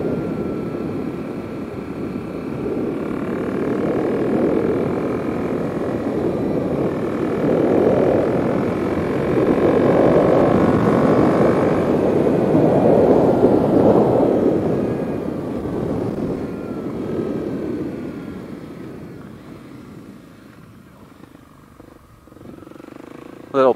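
A Kawasaki KLX 300 dirt bike fitted with a carbon Delkevic exhaust rides over dirt at dusk, its engine droning steadily and swelling and easing with the throttle, close and fairly loud throughout with no talk.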